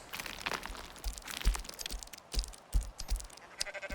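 Sheep bleat repeatedly in a survival video game, a flock of overlapping calls close by with crunchy in-game footsteps and rustling between them.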